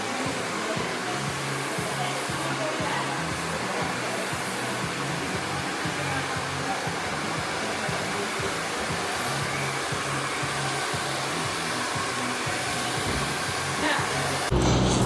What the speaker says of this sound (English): Now your mission is to blow dry.